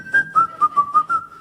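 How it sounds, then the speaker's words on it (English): Someone whistles the Irish tune The Blackbird, a clear solo melody of about six short rhythmic notes, close and fairly loud with no other sound. "he'd be whistling the Blackbird"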